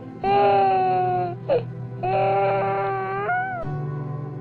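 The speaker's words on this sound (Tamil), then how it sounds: "காட்டிலிருந்து ஒரு குழந்தையின் அழுகுரலை கேட்டார்" A baby's crying wails in an animated Swamy Ayyappan story set in a forest: loud drawn-out cries in two long bursts with a short sob between, then a shorter whimper at the end, heard alone.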